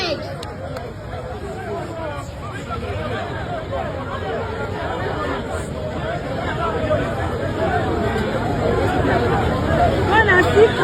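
Crowd babble at a street protest in Nigeria, a continuous mass of overlapping voices that grows slightly louder toward the end, with a nearby voice speaking over the hubbub.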